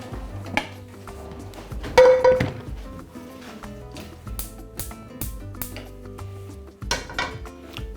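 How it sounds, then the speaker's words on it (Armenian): A metal frying pan set down on a gas stove, giving a clanking metallic knock followed by scattered lighter clinks and taps of cookware in a quiet kitchen. "տապակը հայտնվում է գազօջախին"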